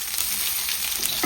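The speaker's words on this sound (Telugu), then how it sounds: "ఇప్పుడు ఇందులో తెల్లపాయ యాడ్ చేసుకుందాం" Garlic frying in hot oil for a leafy-greens dal, giving a brief, bright and steady sizzle close up with no voices.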